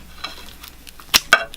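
Shears snipping through a thick root of a Ficus microcarpa bonsai, two sharp, close clicks after soft handling noises.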